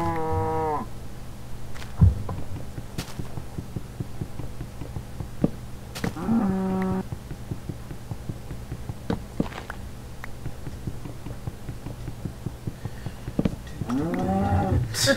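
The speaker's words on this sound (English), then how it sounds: "Where are you, cow?" A cow in the Minecraft video game moos loudly three times, at the start, in the middle and at the end, separated by scattered thumps and footsteps.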